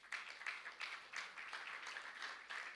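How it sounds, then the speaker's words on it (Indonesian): A church congregation applauds during a Sunday worship service, rhythmic clapping swelling in regular pulses, fairly distant and even, with no voices rising above it. "berikan tepuk tangan"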